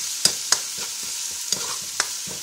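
Vegetables and aromatics stir-fried for Lao red curry, with a constant hiss of sizzling and several sharp spatula scrapes against the pan at uneven intervals. The sound is close, and there is no speech.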